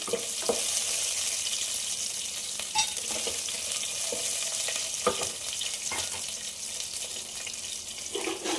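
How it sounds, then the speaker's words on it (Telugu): Chopped onions fry in a pan with a steady hiss, and occasional clinks and stirring knocks sound over the sizzle throughout. "కట్ చేసి పెట్టుకున్న ఎర్రగడ్డలు కూడా వేసేసుకున్నాం"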